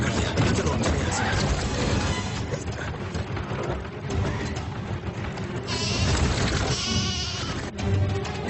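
Cartoon sheep bleat repeatedly amid a busy, dense soundtrack of music and effects, with voices speaking over parts of it.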